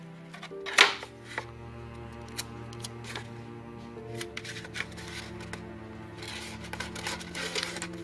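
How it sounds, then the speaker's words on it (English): Tape is handled while the ends of a paper hat craft are stuck together: crinkly paper rustles, small taps and a sharp tearing snap near the start, close and moderately loud over a faint background tone. "we are going to use our tape and we are going to tape the end"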